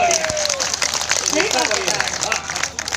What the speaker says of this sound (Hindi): अरे इसमें तो ताली आनी चाहिए भैया